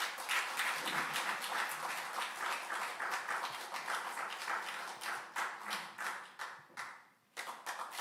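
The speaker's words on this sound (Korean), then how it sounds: "여러분, 신부님을 큰 박수로 모시겠습니다." A crowd at a Catholic Cursillo gathering in the Suwon diocese applauds to welcome a priest, a dense, steady clapping that runs for several seconds, thins briefly near the end, then picks up again.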